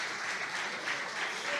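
Dense, continuous applause from a church congregation honouring a man's life, a steady wash of many hands clapping together with no pause.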